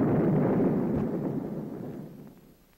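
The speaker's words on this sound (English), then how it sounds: "At the burst point, the warhead is detonated." A Mark 45 torpedo warhead detonates at the burst point, a single loud rumbling blast that starts at full strength and slowly decays into a fading roar over a few seconds, with no talk.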